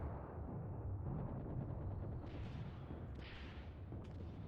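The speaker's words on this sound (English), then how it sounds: "Here we go, Soviet grenades." Soviet grenade explosions in the World War II shooter Mius Front, a dense rumbling barrage of booms and gunfire-like blasts rolling continuously with no clear gaps between them.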